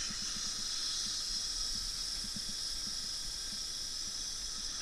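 Compressed air blasts from a house faucet during a water line blow-out, a steady loud hiss with sputtering spray and faint gurgling rattles as the last water is forced out, continuous throughout.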